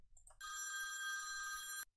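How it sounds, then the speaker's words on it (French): In the video game Keep Talking and Nobody Explodes, a telephone bell rings in one sustained, bright electronic trill lasting about a second and a half, preceded by a couple of faint short chirps, with nothing else audible. "une sonnerie de téléphone"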